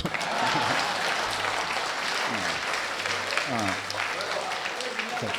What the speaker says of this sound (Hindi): ताली बजाइए आप